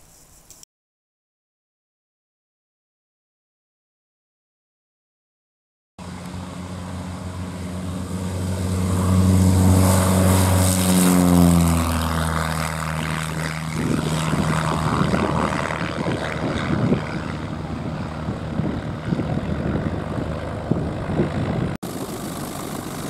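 A Van's RV7 light propeller aircraft starts up after a brief silence, its engine rising to a loud, steady droning roar with changing pitch as it runs nearby.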